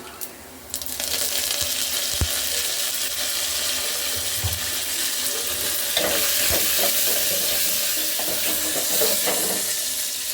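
Onions fry in a pan with a continuous bright sizzle and crackle, joined by stirring scrapes and a few sharp clinks, close and steady over about ten seconds with no talking.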